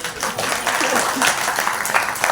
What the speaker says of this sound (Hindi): भले आदमी ताली तो बजा दिया करो